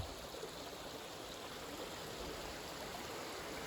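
A year-round stream running along the North Country Trail, a steady, even rush of flowing water with a soft hiss and no breaks, heard alone at moderate level.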